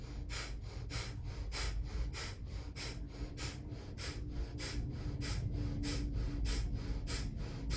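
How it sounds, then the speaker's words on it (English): Breath of fire, a rapid yogic breathing exercise: quick, evenly spaced forceful nasal exhalations, about two per second, close and steady throughout with no talking. "And then we bring breath of fire."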